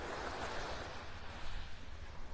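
Small waves lapping on a beach in North Naples, Florida, a steady broadband wash of surf with gentle swells and light wind, no voices.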